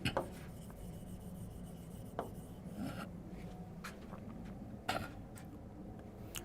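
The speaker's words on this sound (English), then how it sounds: "let me write it down" A pen scratches out notes on paper, faint soft strokes with a few sharper taps and pauses in a quiet room.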